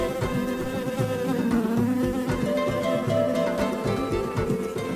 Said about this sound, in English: It appears that a bee is distracting Gerard Giraffe.